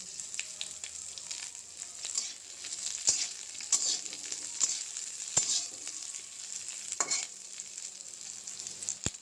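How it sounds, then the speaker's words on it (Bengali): Green chilli, garlic and onion frying in hot mustard oil, a bright close hiss and crackle with occasional sharp pops and light spoon clinks, no talking. "এখন কাঁচামরিচ, রসুন আর পেঁয়াজ এগুলো একটু ভাজি করে নেব।"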